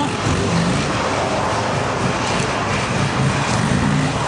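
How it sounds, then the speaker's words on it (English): A Buell motorcycle pushed hard into a corner during stunt riding, its engine a loud, steady, close roar with wind noise and no pauses. "Forcing the bike into the corner."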